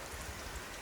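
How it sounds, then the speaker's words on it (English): Rain falls steadily outside a small Italian house, a close, dense hiss with soft low thuds of drops, brief and unbroken. "I'm waiting for the rain to stop"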